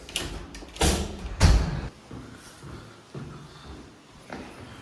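An apartment building door in Prague is opened and swung shut, with a couple of heavy thuds and rattles early on, then softer shuffling and handling noises trailing off nearby.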